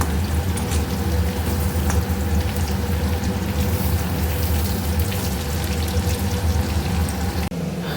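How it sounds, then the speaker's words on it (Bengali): Potatoes fry in a pan with a steady, loud hissing sizzle that holds unbroken for several seconds, close up, with no voices. "এই যে এদিকে আলু ভাজা চলছে"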